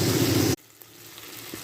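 Tomatoes and crushed garlic tipped into hot oil, a loud sizzle for about half a second that cuts off abruptly, then a faint hiss and low background noise.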